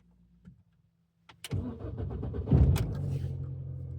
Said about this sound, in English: I thought I'd better actually try and start the vehicle